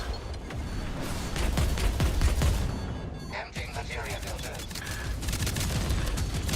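Missiles fire in rapid bursts during space combat in a video game, dense crackling volleys and whooshes layered over busy battle noise, with a brief lull midway before the barrage resumes.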